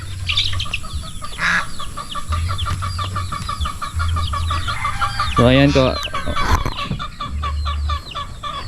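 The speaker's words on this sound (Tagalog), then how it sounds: "ayan yung mga manok natin" Chickens cluck and chatter nearby in a busy flock, with a rooster-like call rising midway and a person speaking briefly in the background.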